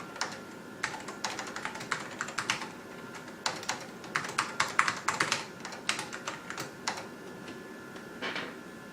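Keys clatter on a Macintosh SE computer keyboard in irregular bursts of close, crisp clicks, with short pauses between runs of typing and no talking.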